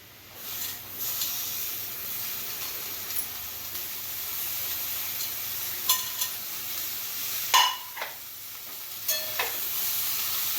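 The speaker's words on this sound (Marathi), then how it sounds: "ही सगळं आपण हलवून घ्यायचं. सगळा मसाला सगळा मिरची बरोबर सगळा मिसळला गेला पाहिजे." Chopped capsicum frying with spices in a pan, a continuous soft sizzle broken by occasional sharp clinks and scrapes of a spoon as it is stirred, with no talking.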